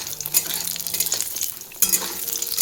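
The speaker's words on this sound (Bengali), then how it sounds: "তো চলো পুরিগুলোকে ভালো করে ভেজে নিই" Puris deep-frying in oil, a close bubbling sizzle broken by sharp clinks and scrapes of a utensil against the pan, no voices.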